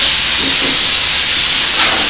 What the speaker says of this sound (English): All right, we get the air compressor.